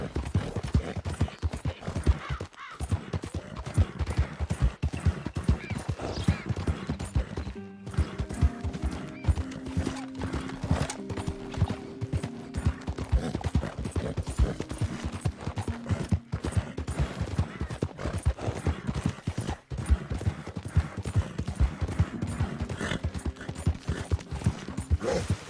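Horse galloping in Red Dead Redemption 2: rapid rhythmic hoofbeats pound on without a break, close and loud, with a horse neighing partway through.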